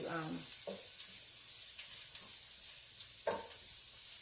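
Pork chops and onions sizzle in a hot pan, a steady close frying hiss with a few brief scraping stirs; a voice speaks briefly near the start.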